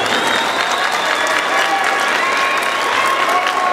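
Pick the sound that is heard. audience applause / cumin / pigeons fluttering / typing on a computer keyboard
audience applause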